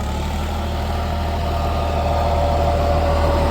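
A John Deere 5105 tractor pulls an 8.5-foot Maschio rotavator through a wet field, its diesel engine giving a steady, close, continuous low drone with a constant hum and no voices.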